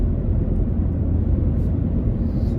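A fixed-wing aircraft flies overhead, a steady low droning rumble that holds constant throughout, fairly loud with no talking.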